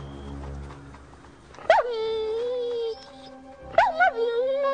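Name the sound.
dog barking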